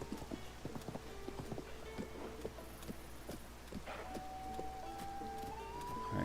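Horse hooves clip-clop at a steady walking rhythm in The Legend of Zelda: Tears of the Kingdom, mid-distance over a low ambient game bed, with a rising tone near the end.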